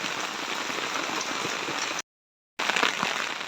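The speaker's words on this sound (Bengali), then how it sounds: "অনেক বড় বড় বৃষ্টি পড়তেছে" Heavy rain pours down on a deserted road beside a brimming pond, a dense, steady hiss of drops on surfaces that cuts out briefly and then resumes, with no voices.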